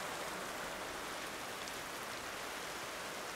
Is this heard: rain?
yes